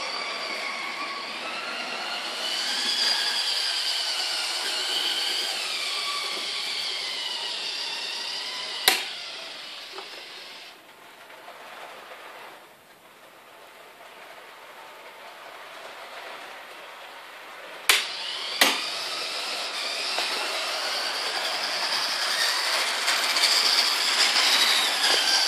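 A BTTB BR250 TT-scale model locomotive pulling four double-deck cars, with a steady whirring motor drone and high whine that dips midway, plus a few sharp clicks from the track.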